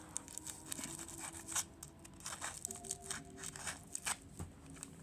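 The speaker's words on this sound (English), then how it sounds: "Then take your scissors and make a wider gap." Scissors snip a wider gap in a handmade toy, with a run of short, close, crisp cuts and papery crinkling over a quiet background.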